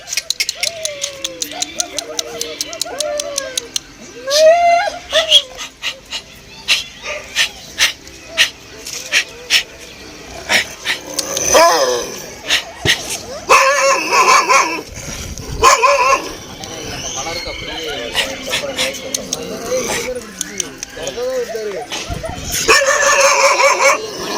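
A Kanni dog barks and yips in sharp bursts, with whimpers and rougher growling sounds among them. Close, loud calls come in uneven clusters, and someone talks between and over them.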